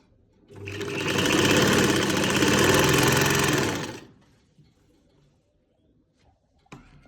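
An electric sewing machine stitches the hem of a salwar in one steady, loud, close whirring run of about three seconds, then stops, followed by quiet handling noise and a single small knock.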